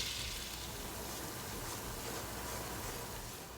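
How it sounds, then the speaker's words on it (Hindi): Flour being roasted in melted butter in a pan, giving a steady soft sizzle that runs evenly throughout at close range with no talking. "अब इसमें मैदा शामिल कर देंगे, ऑल पर्पस फ्लावर, और उसको थोड़ा सा भून लेंगे।"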